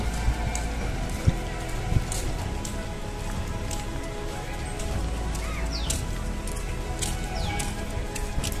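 Steady rain falling on surfaces outdoors, a continuous wash of patter with occasional louder drops, faint voices in the background.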